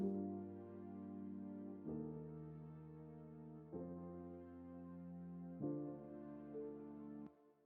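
A soft synth pad layered with a string patch from Vital holds sustained chords, changing every couple of seconds, quiet and smooth with no other sounds.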